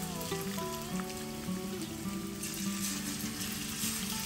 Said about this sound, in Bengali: তেলটা এখানে আমার গরম হয়ে গেছে, এবার আমি চিকেনগুলোকে দিয়ে দেবো।